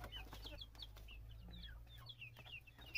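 Texas breed chickens in a pen, several birds clucking and peeping in quick, overlapping calls, close but soft, over a low steady background hum.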